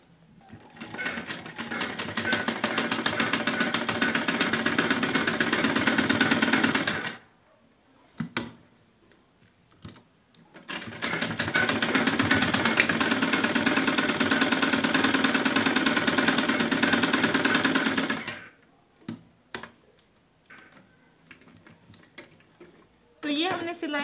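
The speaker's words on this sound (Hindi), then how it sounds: "अब हमें यहाँ सिलाई लगानी है।" Sewing machine stitching old cloth into ladies' thumb socks, running in two long steady bursts of rapid whirring separated by pauses with faint handling noises.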